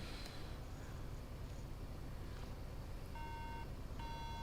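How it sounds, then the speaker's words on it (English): A computer motherboard, just reworked, sounds a three-beep bad-slot error code: short steady electronic tones repeat near the end over a noisy hum. "This has got a 3 beep frickin' bad slot."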